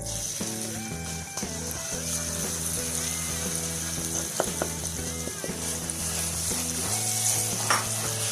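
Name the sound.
eggs frying with semolina in a pan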